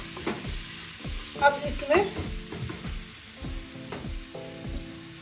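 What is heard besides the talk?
ginger garlic frying and sizzling in a pan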